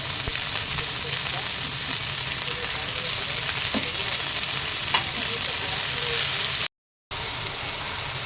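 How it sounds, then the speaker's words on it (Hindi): Fresh fenugreek leaves tossed into garlic frying in a pan, a dense close sizzle with occasional stirring clicks that runs steadily for several seconds before a brief silent cut. "ये देखिए लहसुन थोड़ा हो गया है, इसमें मैं ये मेथी की भाजी डाल दूँगी।"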